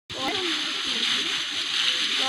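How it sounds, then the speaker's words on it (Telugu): Water splashes and sloshes in a Minecraft game as a character falls in, a steady rushing wash of water sound that continues throughout, with a brief voice near the start. "ఓ మై గాడ్, నీటిలో పడిపోయావా?"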